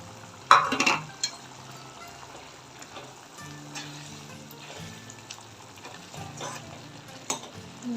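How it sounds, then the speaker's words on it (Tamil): A spoon stirs beetroot pulao masala in a pan after garam masala, a splash of water and ground coconut paste go in, giving scattered scraping and clinking strokes over a soft sizzle, loudest near the start. "நல்லா கலந்து விட்டுருவோம்"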